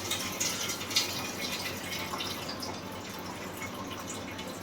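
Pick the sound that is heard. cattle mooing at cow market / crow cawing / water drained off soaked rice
water drained off soaked rice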